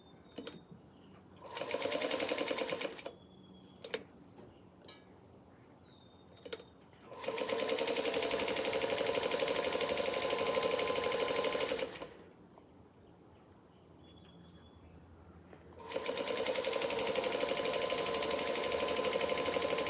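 A home sewing machine stitching a t-shirt quilt runs in several bursts, one short and two long sustained whirring runs, with pauses and light clicks between them, close and clear with no talking.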